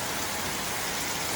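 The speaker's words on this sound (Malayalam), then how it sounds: "പുറത്തേ മഴ പെയ്യുന്നു കേട്ടോ" Steady rain falls outside, moderate rather than heavy, making a continuous, even broadband hiss with no voices.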